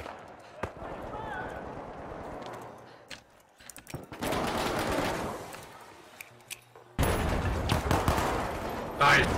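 Gunfire from the online shooter The Finals, with a shotgun among the weapons, comes as scattered sharp bursts and dense loud volleys amid chaotic game action, with people talking over it.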